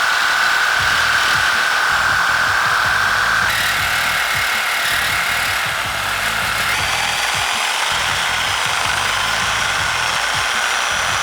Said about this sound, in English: use our grinder at the bottom to remove the weld